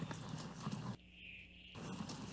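Horse hooves clip-clop in a steady rhythm during a group ride at a ranch, with a brief quieter gap midway before the hoofbeats resume.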